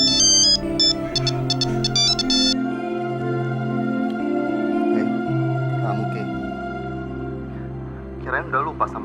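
A phone ringtone of an incoming call chimes in a bright melodic burst at the start, then gives way to a steady music bed, with a brief voice near the end.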